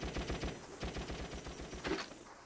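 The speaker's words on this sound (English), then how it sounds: "I don't know what that machine gun is firing at." Rapid machine gun fire from the PS2 Vietnam War shooter Shellshock: Nam '67, a steady stream of closely spaced shots with a brief louder burst near the end, heard alone.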